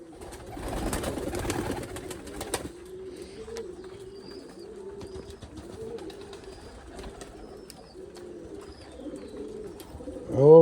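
Pigeons coo in soft, repeated low rolling calls, some overlapping, beneath a brief patch of rustling and wing flutter at the start and a sharper noise at the end.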